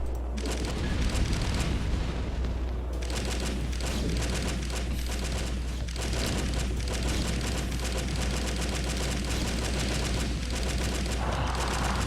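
Dense, continuous barrage of explosions and gunfire from a custom-map battle with masses of Battlecruisers in StarCraft Remastered, loud and unbroken throughout with no voices.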